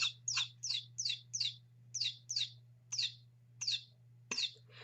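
A toy chicken chirps repeatedly in quick bright bursts, about ten evenly spaced peeps over a low steady electrical hum, close and fairly clear.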